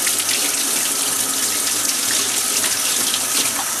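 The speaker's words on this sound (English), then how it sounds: "Take your lid and rinse it." Tap water runs steadily over a home brewing lid being rinsed at a sink, a continuous close splashing hiss with no talking.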